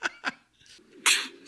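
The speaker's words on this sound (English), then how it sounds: "Sneezes." A short burst of breathy sound builds into a sharp, loud sneeze, preceded by a couple of quick intakes of breath.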